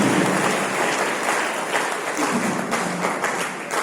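An audience at a university birth-anniversary ceremony for Karpoori Thakur in Madhepura, Bihar gives steady, dense applause from many hands that holds at full strength throughout.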